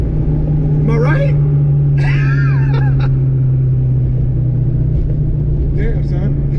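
A stock 302 Mustang engine set up with an old nitrous kit rumbles steadily at idle, loud and close, while people talk over it in short bursts.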